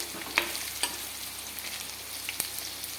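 Onions frying in a pan with curry leaves, a steady close sizzle with a few soft stirring clicks and scrapes throughout, no voices.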